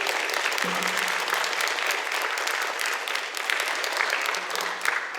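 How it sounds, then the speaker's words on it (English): A crowd at an evening candidate forum in a community center applauds the candidates, sustained dense clapping from many hands filling the room, moderately loud and continuous for several seconds. "let's have a nice round of applause for all of our candidates"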